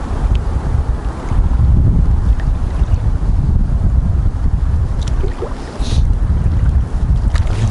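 Strong wind gusts batter the microphone outdoors while fishing for perch in Kyiv, a loud, continuous rumbling roar with no voices.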